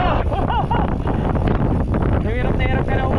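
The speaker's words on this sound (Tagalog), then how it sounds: "Kaya ganito kalakas ang hangin ngayon." Strong wind buffets a microphone during a bike ride on the Sierra Madre Loop, a loud, continuous roar with a voice faintly audible beneath it.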